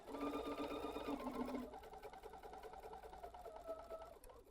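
A sewing machine top stitches a fabric face mask, running in a fast, steady mechanical chatter before shifting to a lighter, quieter pace, close by with no talking.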